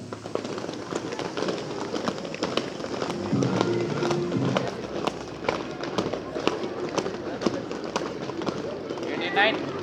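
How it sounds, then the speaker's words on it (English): Students at a school morning assembly stamp their feet on the ground in loose unison, a steady rhythmic thudding with scattered sharp impacts, plus distant voices. "Lift your leg and bang on the ground."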